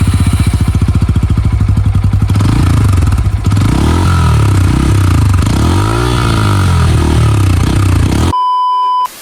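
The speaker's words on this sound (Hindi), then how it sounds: "तो अभी आप लोग को मैं इस बाइक का एग्जॉस्ट नोट चेक कराने वाला हूँ" Bajaj Pulsar N160 motorcycle exhaust idling with a steady, close, throbbing thrum that rises and falls through throttle blips, loud and continuous, then cuts off abruptly into a brief beep.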